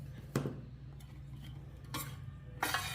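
A spoon stirs adai batter in a bowl in a few separate scraping strokes over a soft background hiss, close and moderately quiet.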